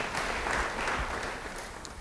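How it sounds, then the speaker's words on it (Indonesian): Applause from a church congregation during a sermon, a brief burst of clapping that fades over two seconds. "Beri tepuk tangan bagi Tuhan."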